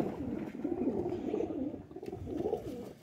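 Domestic rooftop pigeons cooing nearby, soft low throaty coos repeating in rolling phrases, fairly quiet with no talk over them.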